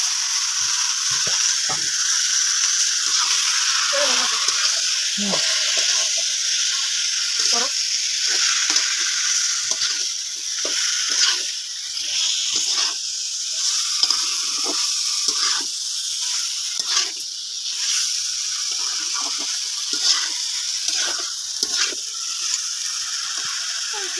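Duck curry meat sizzles and fries in a pan for a village-style cooking session, with a steady hiss throughout and occasional clinks and scrapes from stirring.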